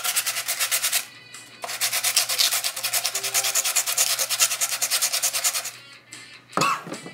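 A plastic logo is sanded by hand in long rhythmic back-and-forth scratchy strokes, up close, with a short pause near the start and another near the end.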